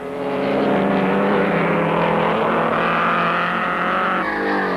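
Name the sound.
1930s Mercedes and Auto Union race cars on circuit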